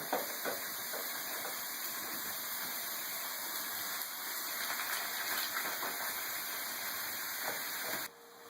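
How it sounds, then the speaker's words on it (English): Ground meat and onions browning in a pan, a dense continuous sizzling hiss that holds steady for several seconds and then drops away abruptly near the end. "we got the meat browning and I got the onions in there"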